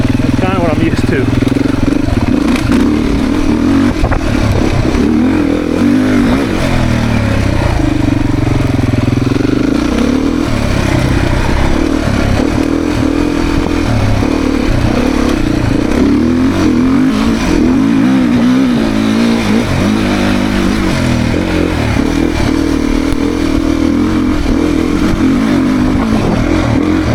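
A 2024 Beta dual sport motorcycle revs and pulls along steadily, its mid-pitched engine loud and continuous throughout while the rider talks over it.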